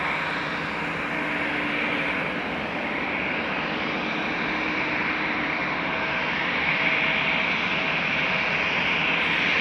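Irish-registered ITA Airbus A320, about 16 years old, moving at Amsterdam Schiphol: continuous broadband jet engine roar, fairly loud and steady, slowly building toward the end, with no voices.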